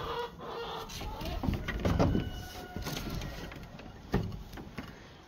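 Backyard chickens cluck steadily and fairly close, fenced in during nonstop rain after a big tree fell into their pen, with a continuous rain hiss beneath and a sharper squawk near the end.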